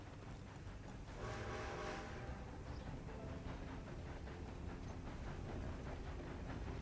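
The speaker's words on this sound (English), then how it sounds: "Train in the distance." A distant train rumbles steadily through the Red Dead RP game world, a continuous broad roar with a faint higher tone rising early on, heard alone without speech.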